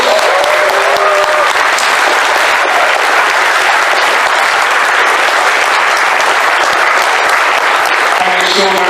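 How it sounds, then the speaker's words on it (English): Loud, sustained applause from a panel audience applauding a speaker, filling the whole stretch without a break, with a few voices and cheers showing through near the end. "Give Michael a big round of applause."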